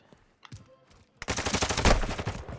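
Rapid in-game gunfire from Call of Duty: Modern Warfare II erupts after a quiet start, loud and sustained bursts with a dense rattling texture filling the last half.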